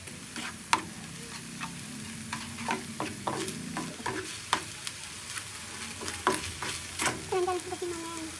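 Pork cubes fry and get stirred in a pan, giving a steady sizzle broken by scraping clicks and clatters from the utensil, moderately loud and close, with no voices.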